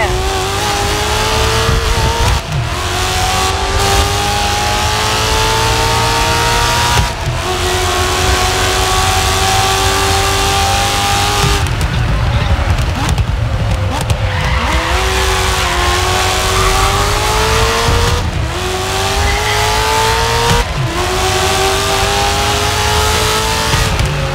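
A Ford GT40 race car roars through a Grid Legends race, its engine loud and close and rising and falling through repeated gear shifts, with tire squeal breaking in midway and no voices.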